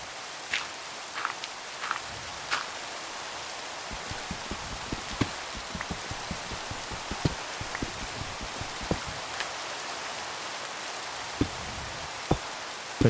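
Faint, steady rain falls outdoors, a soft hiss broken by scattered light drips and taps, with no voices.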